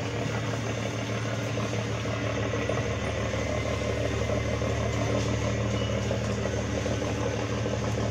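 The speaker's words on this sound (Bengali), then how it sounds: "ওই দূর থেকে আসতেছে একটা ট্রলার, কাঠ বোঝাই দিয়ে ট্রলারটা আসতেছে।" A wood-laden trawler boat on a river runs its engine in a steady low droning chug that stays constant throughout, with no talking.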